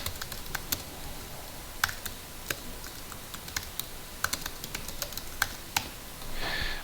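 Typing on a computer keyboard while composing an email, a quiet, irregular run of close, sharp key clicks over faint background hiss.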